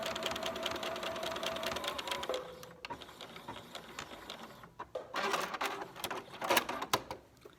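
Sewing machine stitching in the ditch along tape while making an N95 mask, a quiet, fast mechanical whir in two bursts separated by a brief pause, close by with no talking.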